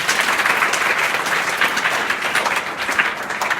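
Schoolchildren clap together in a classroom at a primary school in Kolisa, Azamgarh, a loud, dense burst of many small hands in quick rhythm holding steady for several seconds.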